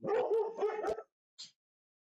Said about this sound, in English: That was just the dog barking.